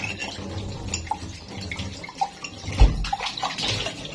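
Running tap water splashes over a water dispenser filter as it is rinsed by hand, a steady near flow with sloshes, drips and one sharp knock against the sink partway through.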